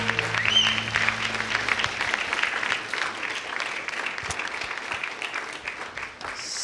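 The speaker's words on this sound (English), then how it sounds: "One more round of applause" Crowd at a Women's Federation for World Peace Los Angeles relaunch ceremony breaks into a full round of applause, sustained clapping that stays strong and even for several seconds, with a brief voice near the start.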